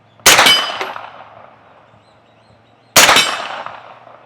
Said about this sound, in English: We'll fire all the shots, see how good it does.